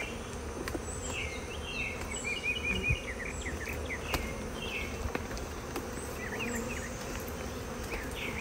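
Honeybees drone in a dense, continuous buzz at a hive entrance during a queen installation, with individual bees whining past close up against the steady swarm hum.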